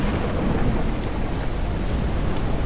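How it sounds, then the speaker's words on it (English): Thunderstorm with heavy rain in the video game Forever Skies, a dense, constant roar of downpour with low thunder rumble, loud and steady with no voices. "the storm has been obliterating everything"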